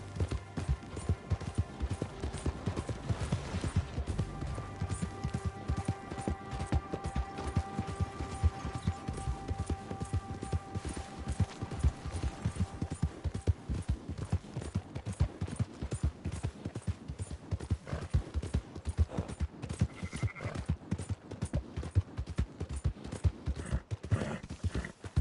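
Horse hooves pound in a fast, unbroken galloping rhythm for the whole stretch in the open-world western game Red Dead Redemption 2. The clatter is dense and steady, with faint tonal background sounds and no voices.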